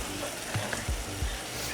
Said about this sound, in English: now I'm gonna start frying these